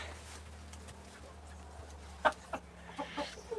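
Quiet, soft clucking from hens eating at close range, with a few pecking taps and scattered louder clucks toward the end.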